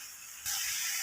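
Ginger garlic paste hits a hot pan for a khanavali-style okra gojju, bursting into a sudden loud, steady hiss of sizzling that holds without letting up.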